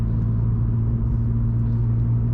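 A Royal Mail van closes in behind a Vauxhall Corsa on a night drive, heard as a steady low engine and road rumble with a constant drone and no voices over it.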